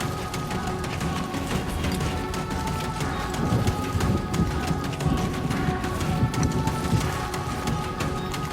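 Steady rain falls throughout the video game Death Stranding 2, a dense continuous patter with occasional heavier drops, loud and unbroken with no talking.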